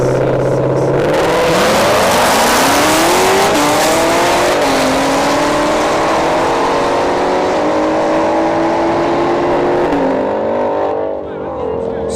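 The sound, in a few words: Mustang and Corvette C7 Z06 drag racing at a dragstrip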